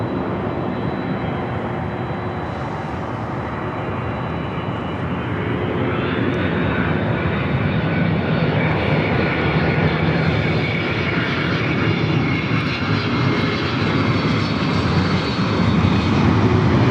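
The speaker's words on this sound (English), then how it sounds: "a Delta 767-300ER heading to JFK. That's the aircraft you hear." A Delta Boeing 767-300ER jet departing Los Angeles LAX for JFK, its engines building into a loud, sustained roar that swells and holds steady across the whole stretch.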